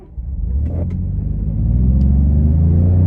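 A 2021 or newer Ford F-150 pickup truck, fitted with a Windbooster throttle controller, pulls away from a stop with a low, steady engine rumble that rises and thickens as it accelerates, heard from inside the cab.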